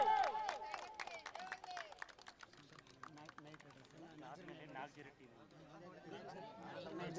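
At a prize distribution ceremony for a cricket premier league, a crowd claps briefly. Loud clapping at the start soon gives way to chatter and murmuring voices that continue under the fading applause.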